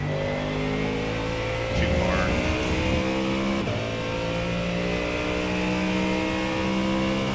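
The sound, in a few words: Mustang GT3 race car engine on track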